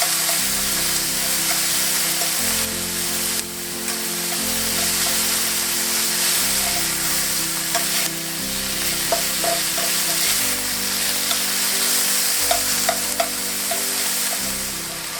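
Ground meat for Hungarian goulash pasta sizzles and browns in a pan, a loud steady frying hiss broken by scraping and stirring sounds, with no voices.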